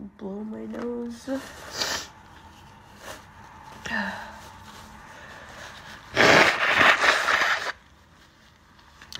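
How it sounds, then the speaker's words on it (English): Someone blows their nose during allergy season, with short sniffs and snorts early on, then a loud, sustained blast of honking and rushing air, with brief voice sounds in between. "I'm going to blow my nose."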